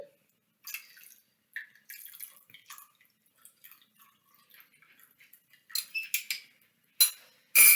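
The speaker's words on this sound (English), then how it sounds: "when we pour in our borax solution" Borax solution poured into a slime mixture, heard as scattered, close drips and small wet plops and clinks with gaps of silence between, growing louder and splashier toward the end.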